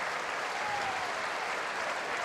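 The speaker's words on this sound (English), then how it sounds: "And now a great round of applause." A stadium crowd at a Maine versus Western Kentucky college football game applauds steadily, a dense wash of clapping heard from a distance with no talk over it.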